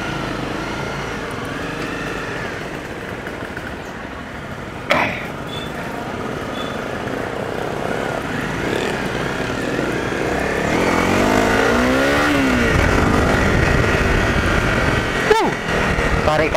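A Honda CRF 250 Rally motorcycle drones steadily while being ridden, with wind rush over the engine and a rising pull of revs partway through as the rider accelerates.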